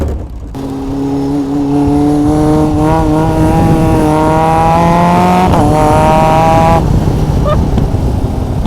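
A Caterham 620R sports car engine revs hard and climbs in pitch through the gears, breaking off with a brief shift before rising again, then dropping away, close and very powerful.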